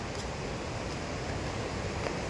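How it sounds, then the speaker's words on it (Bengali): Waterfall near Ranchi, a dense, steady roar of falling water with no breaks, loud and close, alone without voices. "খুব জোরে ঝর্ণার আওয়াজ হচ্ছে, অনেকটা উঁচু থেকে ঝর্ণাটা অ্যাকচুয়ালি পড়ছে"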